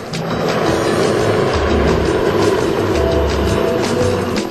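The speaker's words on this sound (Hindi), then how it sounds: "कभी ये चारों हेलीकॉप्टर एक सीधी लाइन में उड़ान भरते हैं" Four Air Force helicopters fly in formation at the Aero India 2013 air show, a loud continuous rotor thrum with rhythmic blade chopping that stays steady throughout.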